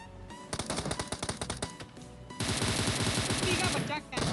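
Gunfire in PUBG on the Erangel map: sharp rapid shots in bursts, first separate cracks then a dense sustained volley, loud and close, with game sounds around them.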